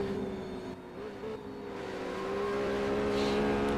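A race car's engine holds a loud, steady high-pitched drone as it climbs uphill out of a carousel corner in a racing game, rising slightly in pitch and growing louder as it accelerates.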